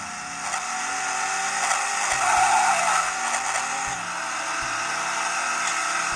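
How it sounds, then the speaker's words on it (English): A traffic crash and tire skid in a racing video game played on a retro handheld console: a constant engine drone with a swelling tire squeal and repeated low thuds, loud and steady throughout. "The sound of the traffic crash."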